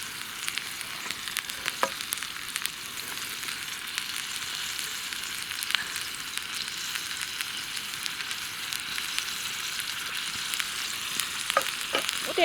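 Nettles and wild herbs fry in a pan, a steady bright sizzle and crackle running throughout with occasional sharper pops, no voices.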